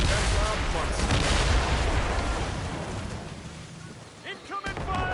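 Ship cannon fire in Assassin's Creed Rogue during a naval battle: heavy booming volleys and rumbling blasts crowd the first seconds, fade slightly, then sharper reports return near the end, with voices calling out under the din.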